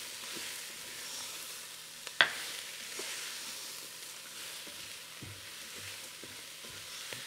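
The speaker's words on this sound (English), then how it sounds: "I'm gonna go ahead and put my seasonings in. Get those mixed around." Seasonings being stirred into rice frying in a Ninja Foodi: a steady soft sizzle with a sharp utensil clack near the pot and occasional light scrapes and taps.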